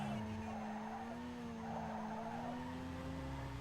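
A car drifts in Need for Speed Underground 2, with a continuous tire squeal and skidding over a steady engine drone that holds loud throughout.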